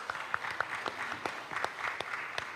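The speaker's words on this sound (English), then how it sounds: "Please give them a round of applause." Applause from an audience at a sorority chapter event honoring election candidates, moderately quiet, with distinct individual claps standing out from a steady patter.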